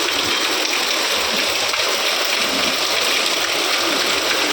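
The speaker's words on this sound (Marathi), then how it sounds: "पाऊस लागलेला आहे." Heavy rain pours down in a steady, loud, rushing wash of water that stays even from start to finish, with no speech over it.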